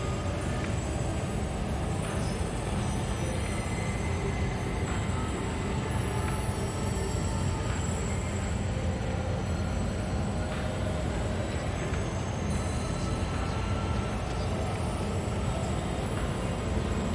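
A tram in the video game Star Citizen rolls in with a steady, continuous mechanical rumble and hum, loud and unbroken, with faint high tonal whines layered over it.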